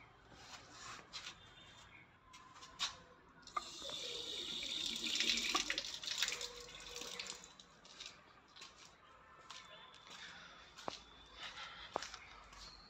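Water runs from a steel tap in a house washroom, a continuous splashing flow that swells in the middle, with scattered knocks and handling clatter around it.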